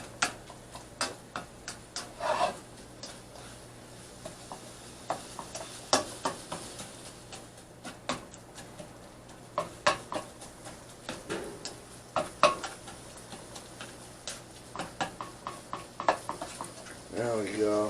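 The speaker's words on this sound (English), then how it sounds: "Keep mixing it, keep chopping it." Burrito filling with potato puffs being chopped and mixed in a pan, heard as a steady run of sharp, close utensil taps and scrapes throughout, without talk.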